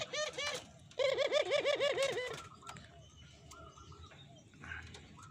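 Turtledoves coo in rhythmic, repeated bursts close by, with two strong phrases in the first half, followed by quieter calls and faint background voices.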